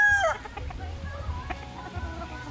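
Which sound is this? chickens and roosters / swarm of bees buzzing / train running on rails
chickens and roosters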